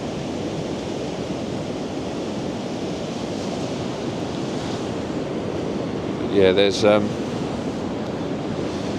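Sea surf washes around coastal rocks on a dramatic shoreline, a constant broad roar of breaking and swirling water with wind buffeting the microphone, and someone speaks briefly near the end.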